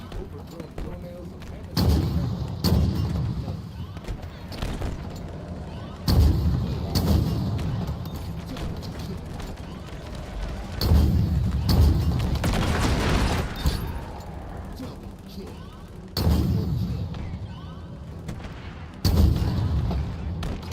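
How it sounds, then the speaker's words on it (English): Video game gunfire in Halo aimed into the open interiors of alien dropships, coming as repeated loud bursts and booms every few seconds over a steady battle din, with a voice talking at times. "Just shooting into the inside of the dropships."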